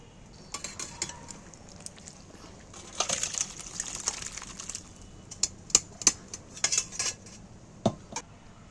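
Jackfruit curry with potatoes and goat fat is tipped out of a pan, with scraping, clinking metal and a few sharp taps against the pan and dish, fairly faint and close.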